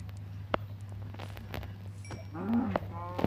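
A cow moos in the Minecraft video game, a short harmonic bleat rising near the end over a steady low hum and scattered clicks.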